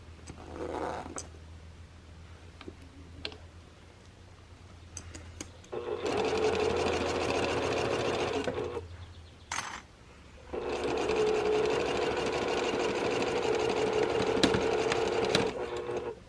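A home sewing machine stitching a zipper onto a tote bag, running in two sustained bursts with a steady motor hum and rapid needle rhythm, separated by quiet handling pauses.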